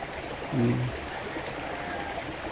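A small creek flows in a steady, soft wash of running water, with a brief murmur of voices partway through.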